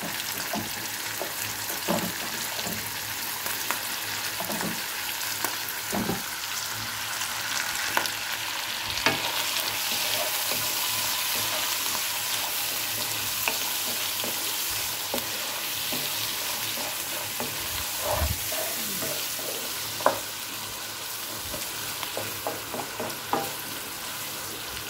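Shrimp frying and being stirred in a pan with squash and bitter gourd, a steady sizzle broken by scraping stirs and clacks of the utensil, close and constant with no talking.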